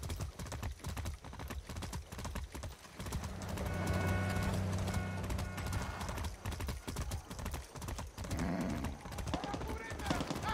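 Horse hooves gallop in Far Cry 6, a steady rapid clip-clop running throughout under game music and effects, with someone talking over it.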